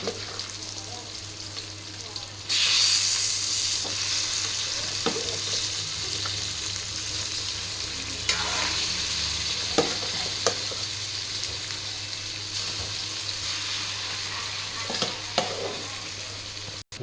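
Fish pieces cooking in plenty of oil for fish curry, a loud continuous sizzle that jumps up as they hit the pan, with scattered stirring taps throughout.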